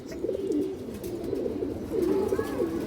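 Low rolling coos from a domestic pigeon repeat over a constant hum of background noise, moderately loud and near, with a brief faint higher call late on.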